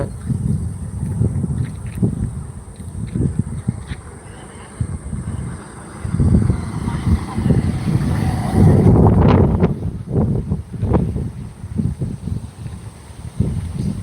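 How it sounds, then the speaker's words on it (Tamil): Strong wind gusts steadily across an outdoor microphone, a loud continuous roaring rumble that swells and buffets, with a voice speaking intermittently beneath it. "காற்று நல்லா செம்ம காற்றுங்க நல்லா காற்று அடி அடினு அடிக்குது"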